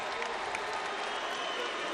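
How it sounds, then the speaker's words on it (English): A crowd applauds the new heavyweight champion Andy Ruiz after a boxing title fight, a dense wash of distant clapping and crowd noise heard continuously across a brief moment. "can we give a round of applause for Andy Ruiz, the new heavyweight champion?"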